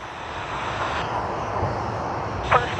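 A Qantas airliner at Sydney Airport produces a steady, broad engine roar that holds constant at moderate distance, with a faint brief higher tone near the end.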